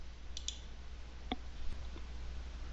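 A computer mouse gives a few faint, sharp clicks, spaced irregularly over a quiet background hum.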